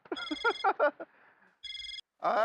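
A mobile phone rings with an incoming call, its bright electronic ringtone sounding in two short bursts after a man's speech, close and clear.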